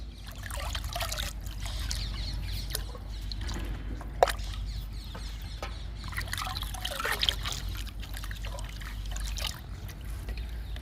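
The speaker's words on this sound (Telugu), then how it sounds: "రెండు బాగా కలుపుకోవాలి" Groundnut cake and kitchen waste liquid fertilizer being stirred together in a full bucket, a steady close trickling and sloshing of thick liquid with soft splashes, no voices.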